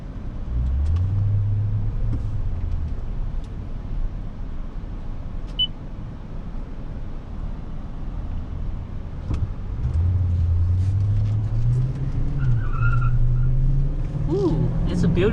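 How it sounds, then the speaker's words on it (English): A 2018 Toyota Tundra Platinum pickup with a 5.7-litre V8 and four-wheel drive, heard from inside while driving: a steady low engine drone and road rumble with the engine note rising as it accelerates, someone talking over it. "Here we are in a 2018 Toyota Tundra Platinum trim with all-wheel drive"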